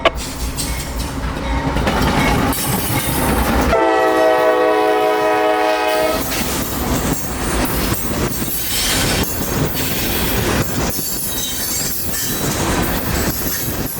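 A CSX freight train rolls past loudly up close with a heavy rumble and rattling wagons, its horn blaring in one sustained blast partway through, then the clatter of cars continues.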